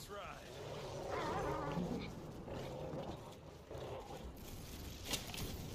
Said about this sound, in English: Here, doggy, doggy, doggies!